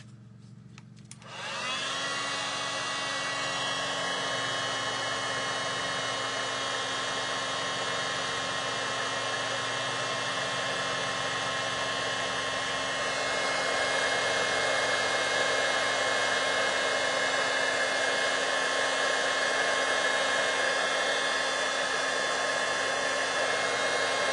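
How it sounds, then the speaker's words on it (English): A heat embossing tool blows hot air in a steady, loud, continuous whir that starts abruptly after a brief click and holds for over twenty seconds, growing slightly louder midway, with no talking. "cover your ears while I heat emboss this"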